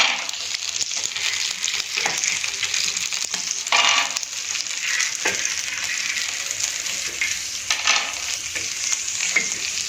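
Peanuts roast with spices in a pan over a normal flame, a dense continuous sizzle broken by repeated scraping stirs, close and loud with no voices.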